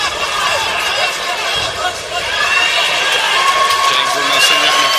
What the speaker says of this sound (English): You can hear the crowd appreciation.